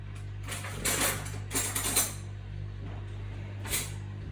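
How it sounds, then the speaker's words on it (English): A knife picked up from a cutlery drawer in a home kitchen, with a few faint metallic clinks and rattles in short bursts over a steady background hum. "So let me just grab a knife here."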